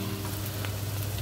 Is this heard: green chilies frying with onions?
yes